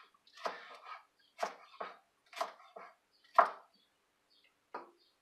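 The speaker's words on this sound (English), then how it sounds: "Gonna do some quick chopping here." A knife chops food on a cutting board in a home kitchen. About six sharp, close chops come in an uneven rhythm with short pauses between them, and no one speaks.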